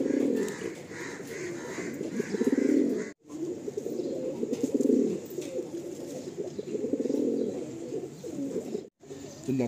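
Pigeons of the Andhra Lalsira and Star Kalanka breeds coo softly and repeatedly nearby in a loft. Low, throaty phrases follow one another with short pauses between them.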